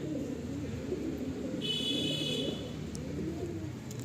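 Andhra pigeons coo in a loft, a steady low murmur of many overlapping birds close by, with a brief high tonal whine partway through.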